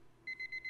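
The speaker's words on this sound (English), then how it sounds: "My buzzing alarm wakes me up and I scramble to turn it off." A buzzing alarm clock in the video game Guilded Heart sounds as four quick, evenly spaced electronic beeps, faint and clear over near silence.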